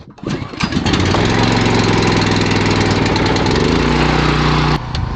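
A welding generator's small gasoline engine cranks and catches, then settles into a loud, steady, close-up running drone with a sharp shift in pitch near the end.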